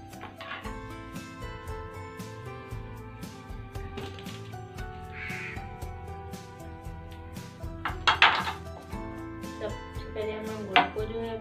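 Fruit being cut with a knife for a creamy fruit chaat, irregular taps and knocks of the blade on a board over soft background music, with a couple of louder clatters near the end.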